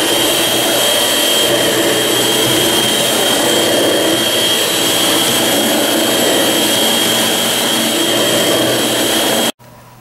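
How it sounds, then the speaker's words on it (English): Electric hand mixer beating cupcake batter, a loud, steady, close-up whirring drone that holds for nearly ten seconds before cutting off abruptly. "Now we're going to mix it with the hand mixer."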